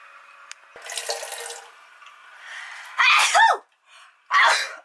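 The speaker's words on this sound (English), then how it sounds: "I just sneezed." A sudden sharp sneeze bursts out close by on a narrowboat, with a gasp and a second burst just after, over the quiet hiss of running water.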